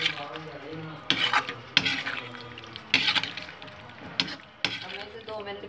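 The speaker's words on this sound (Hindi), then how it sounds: "और इसे अच्छे से कश्मीरी लाल मिर्च के साथ मिक्स कर दूंगी।" Potatoes tossed with Kashmiri red chilli masala in a pan for a home-style aloo sabzi, giving a run of scraping, sizzling stir strokes with sharp bursts every second or so, close and moderately loud.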